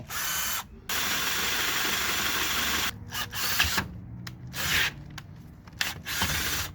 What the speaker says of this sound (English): So we got a 1/2 inch hole drill.